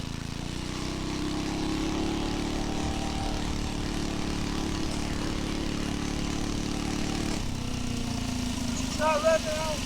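Small engine on a homemade 2-wheel drive minibike running with a steady droning buzz that holds at a limited pitch without revving out fully, close and continuous, with a brief change near the end.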